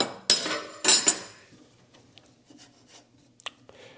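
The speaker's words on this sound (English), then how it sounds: "So get that nut off of there." A wrench works a nut loose from the blade arbor of a table saw, two sharp metallic clanks near the start followed by faint scattered scrapes and light ticks, with no talking.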